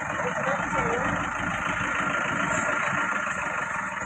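A vehicle engine idles nearby with a loud, steady, unbroken rumble that runs through the whole stretch.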